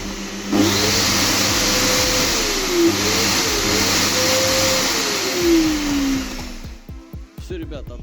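An LG 1800W vacuum cleaner, just repaired for an intermittent stopping fault, whirs steadily with a rising and falling pitch, running loudly for several seconds before cutting off into clattering handling noises.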